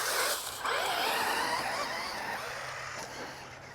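A Losi RZR Rey RC car drives through grass and leaves with a close, rushing, swishy rustle and whirring motor. The sound is loudest at the start and slowly fades.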